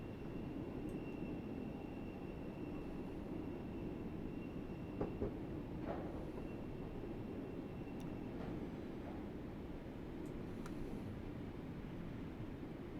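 A diesel HST runs through a railway tunnel on the Isle of Wight line in Train Sim World 4, a steady, faint, enclosed rumble with occasional soft clicks and squeals.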